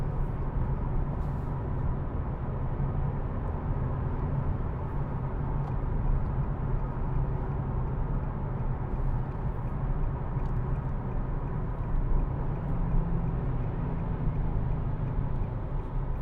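A 2014 Nissan 370Z 3.7 V6 GT drives through a tunnel while changing down a gear, its engine and road noise forming a loud, steady, enclosed drone throughout, with no clear rev spike and no talking.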